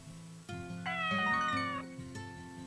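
Cats in the Story of Seasons: Pioneers of Olive Town farming game let out a single clear, drawn-out meow over steady background game music, close and prominent with no one speaking.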